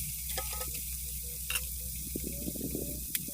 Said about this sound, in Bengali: তেল ভালো মতন গরম হলে আমি লবণ আর হলুদ মাখানো মাছগুলো দিয়ে দিব, আর মাছটাকে একটু মুচমুচে করে ভাজতে হবে